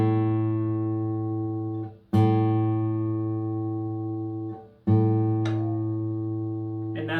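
An electronic guitar tuner sounds a steady, sustained electronic tone after a guitar string is brought into tune, holding for a few seconds, dropping out, then returning twice more with no talking.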